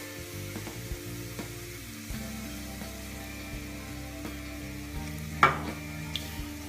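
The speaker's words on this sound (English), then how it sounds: "We get that all mixed in there so that it absorbs or mixes in to all of the butter." Leeks cooking in butter with plain flour stirred through, giving a steady close sizzle and frying crackle under spoon scrapes and stirring, with one sharper clatter near the end.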